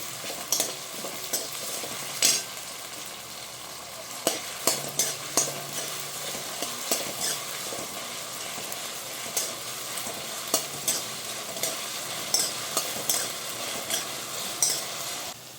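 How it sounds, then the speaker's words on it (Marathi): Potatoes frying in a pan with a pinch of salt, a steady sizzle broken by repeated scraping clicks of a spoon stirring them, close and without talk. "बटाटे तळते वेळेस आपण ह्याच्यामध्ये उगाच चिमटभर मीठ टाकू मग हे बटाटे लवकर तळे जातात आणि नरम पण होतात"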